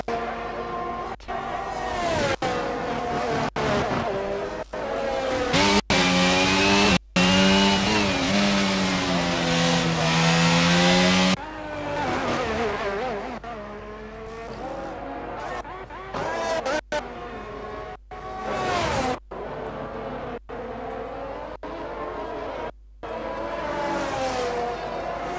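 Racing engines in an F1 video game league session scream through gear changes and long revving pulls, pitch rising and dropping as cars lap near and past, with brief cuts between shots and steady loud engine tone throughout.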